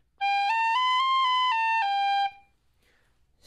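A Music Morneau chromatic tin whistle plays a short melodic phrase of clear, sustained notes that step up and down in pitch, heard alone and close for about two seconds before fading to silence.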